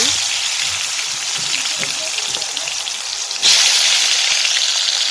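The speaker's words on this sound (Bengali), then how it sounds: "এই যে মাখে রাখা আলুগুলো ভাজি" Turmeric- and salt-coated potatoes frying in hot oil for a fish and cauliflower curry give a steady, close crackling sizzle that swells louder partway through, with no talking.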